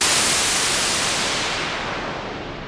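A synthesizer's noise oscillator set to white noise produces a loud, broadband hiss that sweeps down as a filter gradually closes and the upper hiss fades, steady and continuous with no voice.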